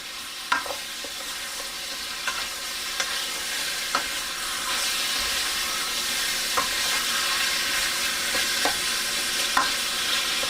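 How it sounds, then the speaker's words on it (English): Beef mechado ingredients sauté in a pan with a steady, even sizzle, broken by a few sharp scrapes and taps of a utensil against the pan as they are stirred. No one speaks. "we are going to saute this until a color turns like"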